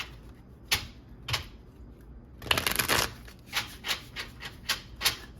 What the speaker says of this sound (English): I'll give this one last big shuffle.